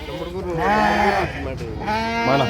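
Sheep and lambs bleat at the Amingad sheep market in Karnataka, several loud, close wavering calls overlapping one another, with people talking in the background.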